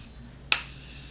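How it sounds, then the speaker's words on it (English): A Tarte Maracuja Mist setting spray gives one short, sharp hiss close up as it is misted onto a face, in an otherwise quiet room. "I'm gonna set my face with the Tarte Maracuja Mist Setting Spray."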